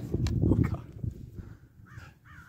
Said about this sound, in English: Oh, look at those birds.